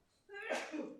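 A single short sneeze, a quick breathy burst with a voiced edge, fairly quiet and close.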